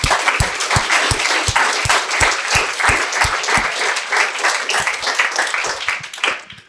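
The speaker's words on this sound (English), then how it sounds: "So a big round of applause to them as well." An audience at a conference event applauds warmly with sustained clapping, steady and full throughout, fading slightly at the end.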